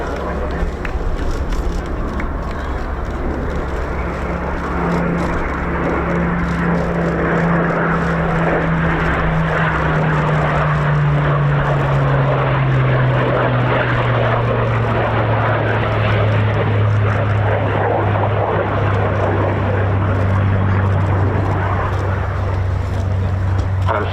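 A Eurofighter Typhoon jet flies a slow high-alpha display at an airshow, its loud, continuous engine roar holding while a tone slowly sweeps downward, with a commentator speaking over the noise.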